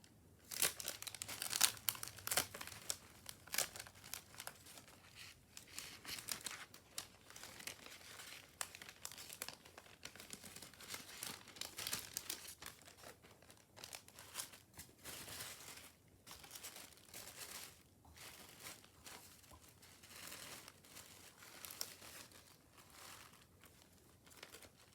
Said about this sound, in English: I'm going to put this back in its envelope